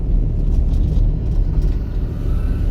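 A car engine in fourth gear, a steady loud low rumble held close and even throughout, with no clear rise in pitch and no speech.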